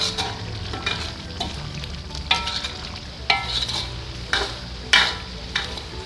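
Balinese basa genep spice paste fries and sizzles in a pan, a steady crackling hiss broken by louder stirring scrapes every second or so, with no talking.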